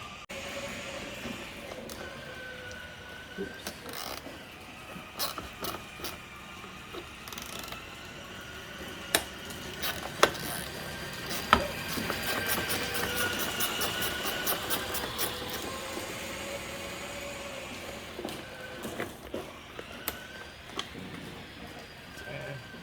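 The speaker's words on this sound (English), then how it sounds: "So let me go ahead and remove this fog light here." Removing a fog light from the bumper of a 2004 Audi A4 brings quiet, intermittent ratchet clicks and small mechanical rattles, with a brief run of rapid clicking midway, over faint background noise.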